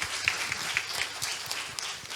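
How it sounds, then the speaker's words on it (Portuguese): A church congregation claps together during a worship service, with a steady rhythmic beat of roughly four claps per second at moderate loudness over a light room hum. "Vamos aplaudir bem forte ao Senhor."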